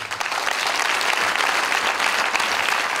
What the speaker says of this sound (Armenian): Ծափարությունները պապիկին։